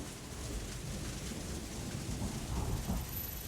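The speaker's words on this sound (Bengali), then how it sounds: "সারা রাত বৃষ্টি পড়তে লাগলো।" Rain falling in a steady, even wash of noise, with a low rumbling undertone and no distinct drops or pauses, heard alone.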